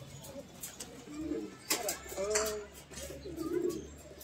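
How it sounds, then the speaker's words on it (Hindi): Soft, low coos from Gola pigeons in Kanpur repeat a few times at close range over faint background noise and occasional chirps. "ये कबूतर चल रही है भाई, ये छोटे उस्ताद आ गए, अली उस्ताद।"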